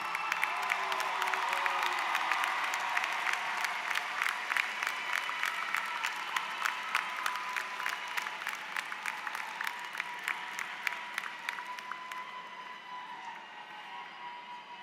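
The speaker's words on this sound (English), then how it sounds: "give them a big round of applause for all the support" Graduation ceremony audience claps for family and friends in a large campus hall, a broad, distant wash of applause with sharp individual claps standing out, gradually thinning and fading toward the end.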